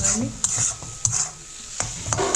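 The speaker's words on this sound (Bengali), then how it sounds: "এই মশলাটা একটু মাখিয়ে নিয়ে নিজেদের মধ্যে মিলা মেশা করে নিই নিজের মশলাগুলোকে ভালো করে মিক্স" A spoon scrapes and knocks around a pan as spices are mixed in, with several sharp taps over a soft background sizzle.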